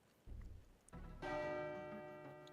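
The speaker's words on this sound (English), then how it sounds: "The final bell rang abruptly and pulled me out of my thoughts." A school bell rings abruptly in the visual novel Soundless, a sustained metallic ring that swells loud and lingers with bright overtones, following a low rumble.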